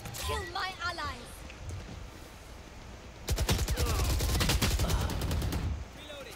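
Bursts of rapid automatic gunfire from the Valorant shooter game rattle in quick succession for a few seconds, loud and close, after a stretch of game announcer voice and background game sounds.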